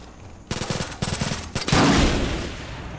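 Gunfire in the video game Far Cry 5, two quick bursts of automatic shots followed by a louder blast with a decaying rumble, close and sharp with no talking.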